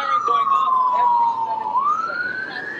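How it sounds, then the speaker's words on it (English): Emergency vehicle siren wailing along a London street in Westminster, a loud sweeping tone that falls slowly then rises again, close and dominant over a low traffic hum. "We have a siren going off"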